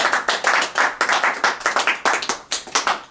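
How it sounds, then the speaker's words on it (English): A small Sunday-gathering audience claps for a helper in a rhythmic, slightly uneven burst of close, distinct handclaps that fill the whole stretch without talk. "So let's give a nice round of applause to Steve."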